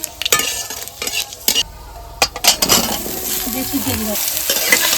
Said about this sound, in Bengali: এই লঙ্কা তেজপাতা দিয়ে দিচ্ছি, কটা 5 ফোড়ন দিয়ে দিচ্ছি